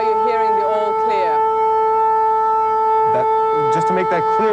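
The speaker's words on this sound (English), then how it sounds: "What you're hearing right now is the all clear." An air raid siren sounds the all clear during the Gulf War, a steady sustained wail heard under a reporter talking over it.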